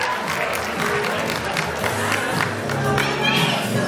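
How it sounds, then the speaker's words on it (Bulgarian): An audience at a school anniversary event applauds a cook volunteer, loud mixed clapping and crowd noise with some cheering and voices throughout. "аплодисменти"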